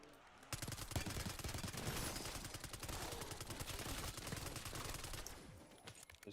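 Rapid gunfire from a Pack-a-Punched gun in Black Ops 6 Zombies, a dense stream of loud close shots running for about five seconds before stopping abruptly, with a few scattered pops after.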